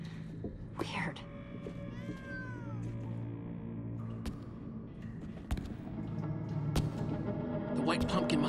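Cats meowing inside the video game Minecraft Story Mode, several rising and falling meows scattered over a steady low game ambience, with faint talk underneath.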